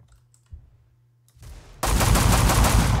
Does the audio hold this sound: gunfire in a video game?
yes